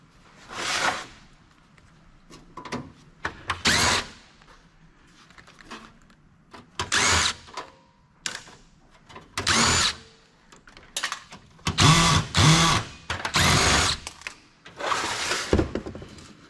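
An electric power tool unscrews a power supply from an old Compaq computer in a series of short whirring bursts separated by quiet pauses, loud and close.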